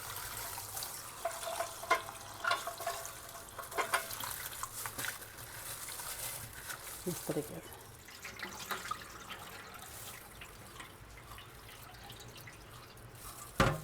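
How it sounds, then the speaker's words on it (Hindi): Chopped taro root pieces are washed by hand in a kitchen bowl through several changes of water, with soft irregular sloshing, dripping and splashing, close but quiet, and someone speaking briefly. "ये हमने 3 से 4 पानी धोना है और बिल्कुल इसकी जो लेस है वो ख़त्म हो जाएगी।"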